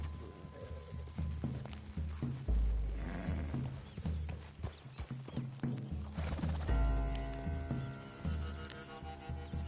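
Horse hooves clip-clop in a steady rhythm in the western video game Red Dead Redemption 2, with a whinny and low background music under the hoofbeats.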